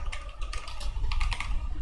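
Rapid typing on a computer keyboard, a dense, close stream of uneven clicks and key thumps that keeps going steadily, no speech.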